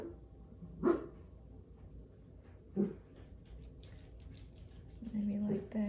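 A dog gives a few separate barks indoors, with quiet stretches between them. A person speaks softly around the barks.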